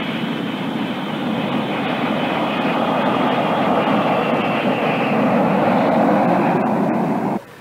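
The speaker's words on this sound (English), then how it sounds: "Slowly and carefully, their jet approaches the landing field." A passenger jet comes in to land at San Francisco's airport, its loud, steady engine roar and rushing air sustained throughout before cutting off abruptly at the end.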